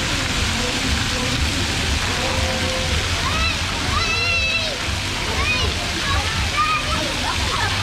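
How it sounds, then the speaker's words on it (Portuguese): Water pours and splashes steadily at a play fountain at a Harry Potter theme park, with a broad constant rush, while people talk and children shout over it. "Cai mais água quando roda."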